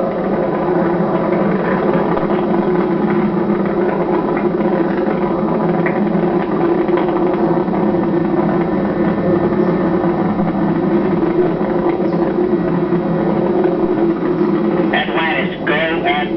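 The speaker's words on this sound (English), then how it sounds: "Engines now revving up" Space Shuttle Atlantis main engines during its final launch, a continuous loud, steady broadband roar filling the whole clip, with a brief radio-like voice near the end.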